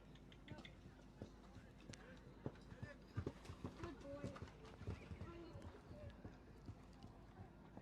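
Horse hooves clip-clopping at a steady canter on an 80 cm show-jumping course at an equestrian park, mid-distance and soft, with a brief whinny and a commentator talking over the rhythm.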